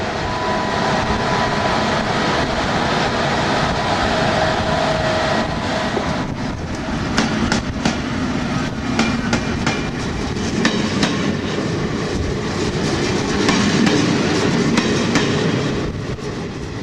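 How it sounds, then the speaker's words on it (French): An express train bound for Tongliao rolls steadily along the rails in China, a continuous loud rumble of wheels with clickety-clack joints and occasional faint metallic squeals, no voices. "Voici notre express pour Tongliao."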